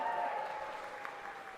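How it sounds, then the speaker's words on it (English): Graduates at a college graduation ceremony give a brief, fairly faint cheer and applause that rings through the hall and tapers off over a second or so. "can I get a cheer from all the graduates to show how excited they are today?"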